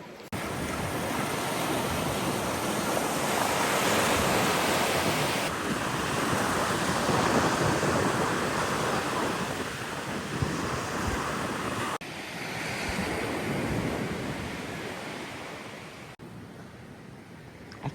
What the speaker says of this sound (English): The problem is that the waves are breaking way out